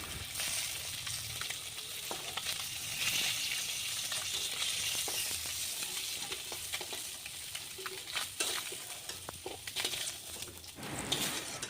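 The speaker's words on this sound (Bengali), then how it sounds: "এক এক করে সব কটা মাছ আমি ভেজে নেব। বেশি ভাজবো না, হালকা হালকা ভাজবো।" Pieces of rohu fish fry lightly in hot oil for a fish masala curry, giving a continuous close sizzle with scattered crackles and pops and occasional scraping of the pan, no voices.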